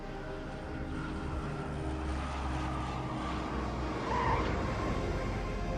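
A C-130 aircraft flies past with a steady, broad propeller-engine drone that swells slightly toward the end, heard from a distance, with no talking.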